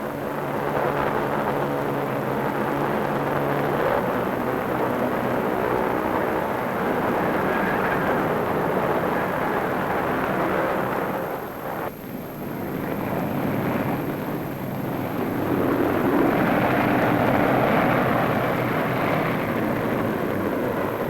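A World War 2 USAAF bomber flies past with a steady, loud, broad engine roar and heavy wind rush that dips briefly around the middle before swelling again, with no voices present.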